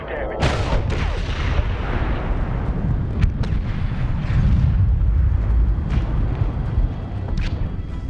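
Bombs exploding in the video game Medal of Honor (2010), a loud continuous barrage of deep booms and blasts layered with distant gunfire and artillery, with no quiet gaps between impacts.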